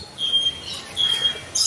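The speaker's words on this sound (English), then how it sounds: "It's a very colourful bird" A colourful bird in a bird park gives thin, high squeaky squawks in two short bursts, fairly close, over quiet ambient noise.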